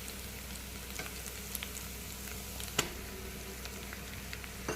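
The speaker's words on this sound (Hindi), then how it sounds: "तो हम पहले बेसन को डाल के भून लेते हैं" Gram flour (besan) roasting in a pan for a drumstick paratha filling, a steady soft sizzle with a few light scraping stirs and one sharp clink, close and alone.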